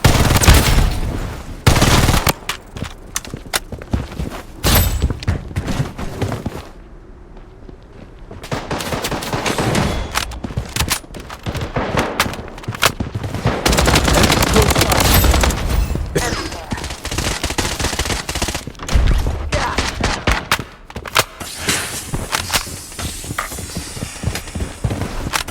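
Gunfire in the battle royale game Blood Strike: dense bursts of automatic rifle fire and single loud shots, nearly continuous and close, broken by a short lull, with game voice callouts mixed in.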